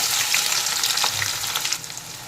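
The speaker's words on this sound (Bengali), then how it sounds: "পেঁয়াজটাকে একটু ভেজে নেব।" Chopped onion fries in hot mustard oil in a wok with bay leaf and whole garam masala, making a loud, bright, continuous sizzle with occasional stirring scrapes and no speech.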